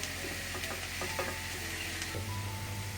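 Onion and garlic sizzle steadily in a hot pan for a cheese soup with mushrooms, a close, even frying hiss with a few scraping stirs and a low steady hum underneath.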